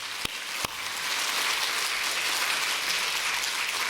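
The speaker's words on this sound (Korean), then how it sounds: "믿으시면 박수로 영광 하나님 앞에." A congregation bursts into applause during a church worship service. After two sharp single claps, a dense, even patter of many hands builds quickly and holds steady at moderate loudness, with no talk.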